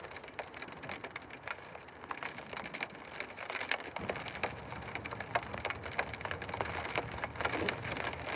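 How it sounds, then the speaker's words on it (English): Steady rain falling outdoors as a new band of weather moves in, a dense, continuous patter with scattered sharper drops, fairly close and unbroken, no voices. "there's now another band of rain coming in"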